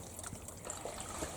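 Water trickles and dribbles softly through a narrow old mining water race, a faint continuous liquid patter with no voices.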